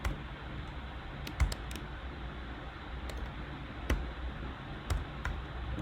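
Java code is typed on a computer keyboard, giving steady soft key clicks with a few sharper, louder keystrokes spaced through the stretch, heard up close with no talking.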